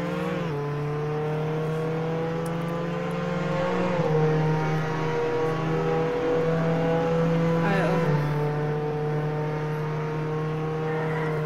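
A car in the Roblox game Jailbreak drives with a steady, buzzing engine tone that shifts pitch and climbs as it revs, continuing without a break for the whole stretch.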